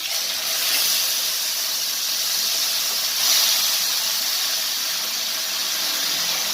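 Spice paste going into hot oil in a pan for paneer curry, a loud continuous steamy hiss and sizzle that swells briefly twice, with no voices.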